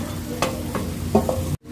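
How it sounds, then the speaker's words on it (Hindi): Brinjal frying in a pan while being stirred, a soft steady sizzle broken by a few scraping strokes of a spatula, close up, ending in abrupt silence. "हम भून रहे हैं"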